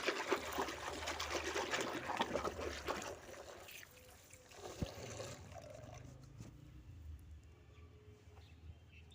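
Clothes being hand-washed and wrung in water, with sloshing and splashing that is busy and fairly close at first, then quieter trickles and dribbles toward the end.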